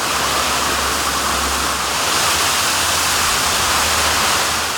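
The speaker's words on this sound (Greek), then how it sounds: "Ενώ αυτοσχέδιοι καταράκτες λόγω του μεγάλου ογκού νερού σχηματίστηκαν στην Εθνική Οδό" Floodwater pours like an improvised waterfall onto the national highway beneath a bridge at Alikarnassos during a severe storm, a steady, dense, close roar of cascading water with no pauses.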